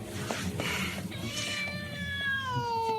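A house cat held in front of a house lets out a drawn-out, falling meow, moderately close and fairly quiet, after a few faint rustles.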